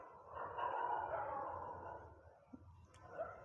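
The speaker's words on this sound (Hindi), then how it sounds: "कुत्ते भौंक रहे हैं" Dogs bark somewhere in the background, faint and distant beneath a steady wash of broadband noise, with no talking.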